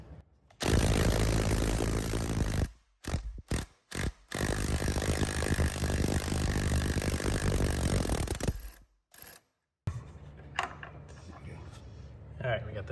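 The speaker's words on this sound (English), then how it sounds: "now we're gonna try to get that middle nut out with the 22mm" A power tool with a 22mm socket and extension removes a nut during suspension lowering-spring work on an E39 BMW 528iT, loud sustained buzzing whirs in several bursts separated by short breaks, ending with quieter clanks.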